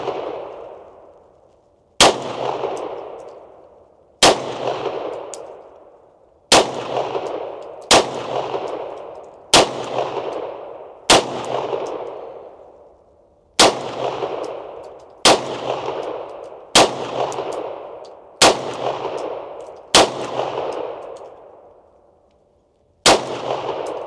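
Eleven sharp, loud M9A1 pistol shots at an outdoor range, spaced about two seconds apart, each with a ringing decaying tail and no talking.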